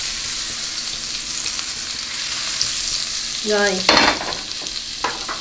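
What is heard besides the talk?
butter sizzling in a hot pan for crepe suzette sauce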